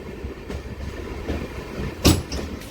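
A passenger express rolls into Kadur Junction railway station with a steady rumble and wheel clatter, then a sudden loud clank near the end before the low rumble continues.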